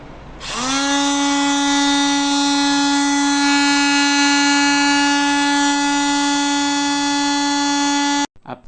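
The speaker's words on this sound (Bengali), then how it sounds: "এরপর আমার কাছে থাকা আমার তৈরি করা ড্রিল মেশিনটি একটু চালিয়ে দেখতে চাই" A homemade drill machine powered by a 12 volt, 30 amp power supply adapter spins up with a loud, high-pitched motor whine that holds steady for several seconds before cutting off abruptly.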